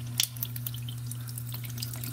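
Water runs steadily from a decorative faucet into a sink, a continuous close wash with a few brief splashes or clinks, heard alone without talk.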